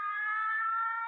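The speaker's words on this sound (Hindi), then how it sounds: "वो पुलिस का सायरन" Police siren in a Hindi action film, a steady loud electronic wail holding one tone for about a second with no voices over it.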